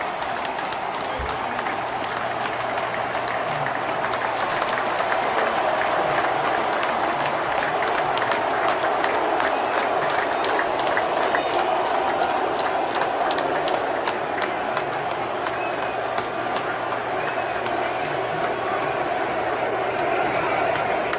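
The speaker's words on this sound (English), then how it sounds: "They start chanting USA, USA." A huge stadium crowd at the Alabama-Georgia college football game in Tuscaloosa roars and claps as President Trump appears on the Jumbotron, a sustained wash of distant cheering and applause that rises and swells without letup.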